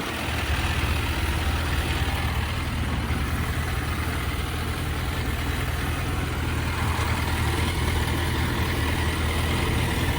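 A Suzuki GSX 650 motorcycle engine idles steadily, a low, even rumble close by with no revving, running alone throughout.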